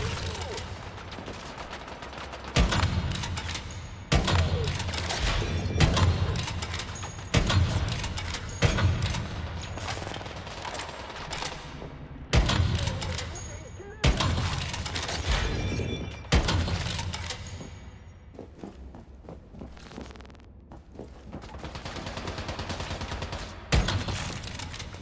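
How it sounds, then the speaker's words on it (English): Dual Fury gun fired in the video game Once Human: loud bursts of rapid automatic gunfire repeat for about twenty-five seconds, separated by short pauses, up close and dominant. "Dual Fury is such a good gun"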